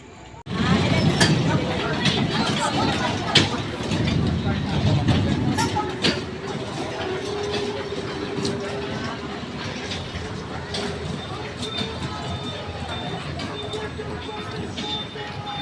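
A train rolls past, a dense rumbling roar that starts abruptly and then settles into a steady rattle with faint squeals and clicks, while people talk beneath it.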